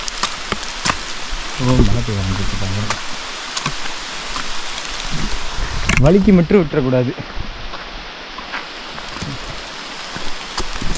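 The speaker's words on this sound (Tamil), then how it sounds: "வெளியில் பயங்கரமாக மழை பெஞ்சிக்கிட்டு இருக்கு. ஆனால் எங்களுக்கு வந்து சொட்டு சொட்டாக தான் தண்ணி எங்கள் மேலே படுது." Heavy rain on a mountain trek through forest at Agasthiyar Malai, dripping steadily through the tree canopy as a constant wash of noise, with people talking close by over it.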